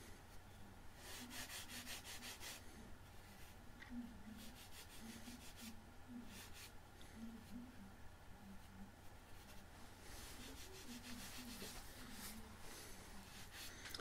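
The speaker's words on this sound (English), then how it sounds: "it's a good idea to use sandpaper to take these bumps down, make it completely smooth" Sandpaper rubs down small bumps on a sooty surface of a SLEC Sky 40 model aircraft build, a quiet, steady back-and-forth scratching in close, even strokes with no talking.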